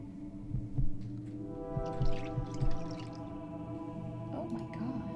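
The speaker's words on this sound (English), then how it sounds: "That's the sound of my heart disturb you." A heartbeat sound effect from the video game Fran Bow thumps over a low droning hum, with soft repeated beats under a dark, sustained atmospheric tone and no speech.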